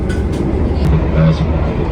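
A train rumbles along the rails with a steady low roar, heard from inside, with faint squeals and clatter over the continuous rolling noise, on a long ride to Yogyakarta.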